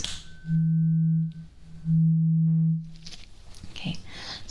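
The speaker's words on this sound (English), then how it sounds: "Now we have a tuning fork, and the sound sounds like this." A tuning fork rings twice during an ASMR medical hearing exam: two steady, pure, close-up tones that each sustain about a second and then fade. Soft handling noises and faint movement follow.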